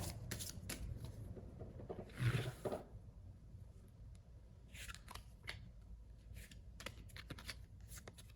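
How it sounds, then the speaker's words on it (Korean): Tarot cards are shuffled and drawn close to the microphone. Quick riffling bursts mix with crisp card snaps and slides, and a thicker shuffle comes partway through, all without talk. "여러분의 연애 운을 좋게 하기 위한 조언 카드 뽑아볼게요."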